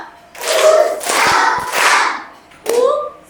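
Children in a Marathi class clap in time while sounding out a word syllable by syllable, giving a few close, sharp handclaps mixed with their voices.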